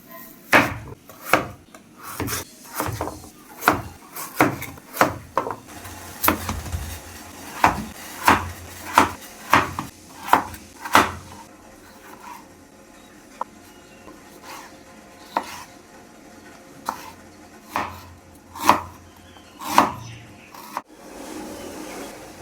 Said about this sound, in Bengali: আমি মাছের ঝোলের কাটাকাটিটা একটু সেরে নিই